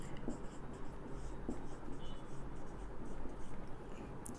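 Chalk or marker writing on a board during a physics lecture, faint scratchy strokes in short bursts at close range, quiet and steady with no talk over it.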